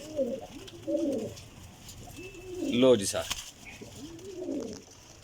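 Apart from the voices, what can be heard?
pigeons cooing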